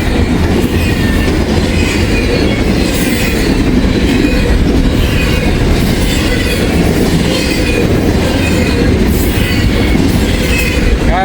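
A long freight train carrying containers rolls steadily past close by, a loud continuous rumble and clatter of wheels on rail with rhythmic clicking and faint squeal throughout.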